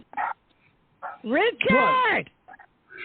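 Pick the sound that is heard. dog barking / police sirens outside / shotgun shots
dog barking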